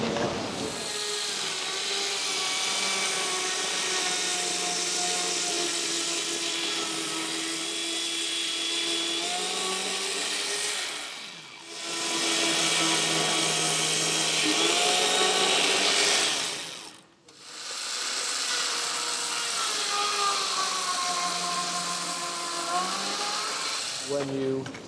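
A power mortiser cuts a 2-inch mortise into a timber-frame post for a barn, giving a sustained whining motor drone with steady harmonic tones that briefly dips twice as the cutter is lifted and plunged again.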